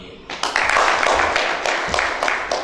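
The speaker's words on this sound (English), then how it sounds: "Let's also applaud the Vice Chancellor." An audience applauds at the 13th Inter-University Human Rights Competition at Bishop Stuart University. Dense, steady clapping rises sharply after a brief quieter moment and holds at full strength throughout, filling the hall.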